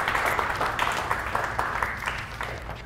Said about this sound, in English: You just wanted to applaud.